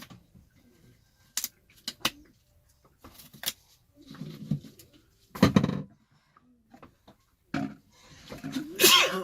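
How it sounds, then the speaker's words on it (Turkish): A sharp, loud sneeze bursts out during fiberglass boat repair work with polyester resin, set among scattered clicks, handling knocks and brief murmurs. "burası tabi hapşırtıyor adamı"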